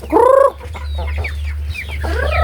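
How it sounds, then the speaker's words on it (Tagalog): A hen gives a loud, clear cluck during feeding, followed by softer chicken calls and chatter over a steady low hum. "Pakain ng manok"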